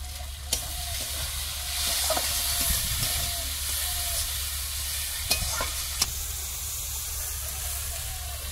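Vegetables frying in a pan with cumin and coriander powder while being stirred, a steady close sizzle and hiss with a few sharp clinks of the utensil against the pan, in a Sundarbans village kitchen.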